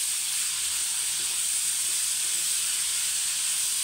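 Pork frying in a pan with garlic and onion for Bicolano igado, giving a steady, bright sizzling hiss that holds evenly throughout with no voices.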